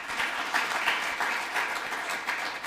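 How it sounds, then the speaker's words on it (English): A conference audience at a tech hub demo day gives sustained, even applause from many hands, filling the room at moderate volume with no talk over it. "Please let us give applause to our partner."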